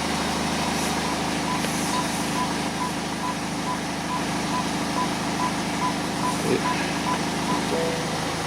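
A 2010 BMW 118d with a 2-litre diesel idles with its ZF6 automatic gearbox in reverse, a steady engine drone overlaid by repeated evenly spaced beeps, with a brief faint noise near the end and no talk.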